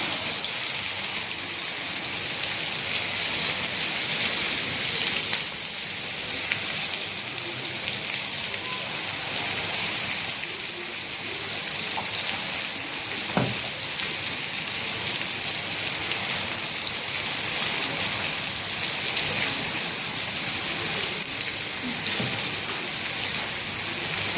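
Anchovies fry in hot oil with a constant dense sizzle and crackle, steady and fairly close throughout, with a brief clink partway through.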